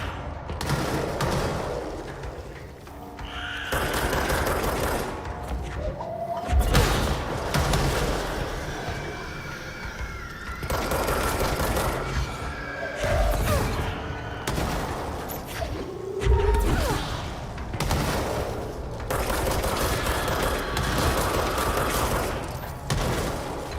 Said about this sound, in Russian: Это они сами так взрывались?